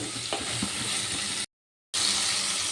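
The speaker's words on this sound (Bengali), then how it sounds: "পটল আর টমেটো আবার ভালো করে একটু নাড়াচাড়া করে নেব" Pointed gourd and tomato, already fried, are stirred in a sizzling pan. A spoon scrapes now and then over a steady hiss. The sound cuts to a short silence partway through, then the frying resumes.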